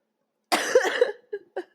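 One person coughs hard once in a rough burst, followed by two short, quieter coughs, close and alone against silence.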